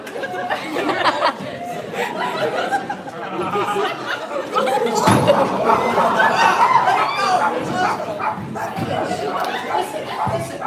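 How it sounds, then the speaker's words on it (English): A dog barks a few times amid loud crowd chatter and laughter at a wrestling training session, the barks brief and partly buried under the voices. "Does anyone own this dog?"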